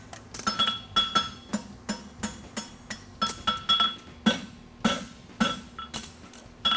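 A hammer strikes a hot horseshoe repeatedly in quick, uneven bursts at a blacksmith competition, each blow ringing with a bright metallic clink, close and without talk.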